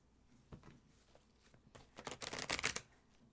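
Tarot cards shuffled by hand at a reading table, soft rustling that builds into a quick run of crisp riffling flutters, close and fairly quiet.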